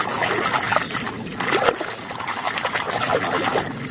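Toy vehicles such as race cars, a cement mixer truck, a train, a bus and a tank being rinsed in clear water. The splashing and trickling sound is close and steady, with a brief stronger splash midway.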